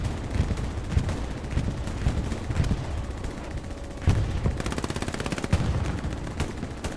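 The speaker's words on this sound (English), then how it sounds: "Samsu rocking the PPSH." A PPSh submachine gun fires in a Stalingrad railway battle in a competitive multiplayer video game, with loud bursts of rapid automatic fire mixed with other distant gunshots and booms, a tight rattling volley standing out near the end.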